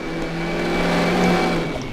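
A truck drives past very close, a loud swelling engine and tire roar that peaks midway and fades slightly, with no talk.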